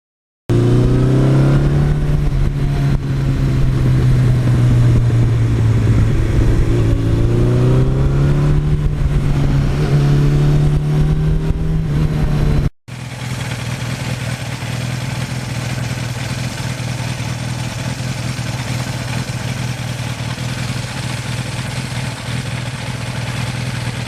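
A 1982 Suzuki GS1100E motorcycle engine revs steadily while being ridden, its strong low drone rising and falling in pitch through the first half, then settling into a flatter, continuous hum with wind noise after a brief cut.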